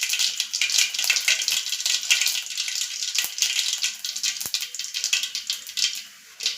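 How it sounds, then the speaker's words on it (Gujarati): Mustard seeds and cumin crackle and sputter in hot oil in a kadai, a dense steady hiss with scattered pops, close and fairly loud, no talking. "સરસ આપણું રાઈ અને જીરું ફૂટી ગયું છે"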